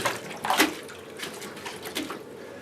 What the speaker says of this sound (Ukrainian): абсолютно більша частина води просто-напросто тече під фундамент